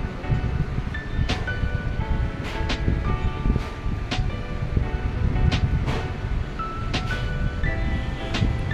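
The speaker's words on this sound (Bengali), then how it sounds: "তেলে একটা একটা করে দিয়ে দেবো, দিয়ে ভাজবো।" Small kachoris frying in hot oil, a steady dense sizzle and bubbling that runs throughout with a few sharper crackles and clinks over it, fairly close and loud.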